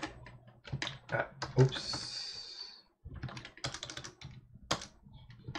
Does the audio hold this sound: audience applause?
no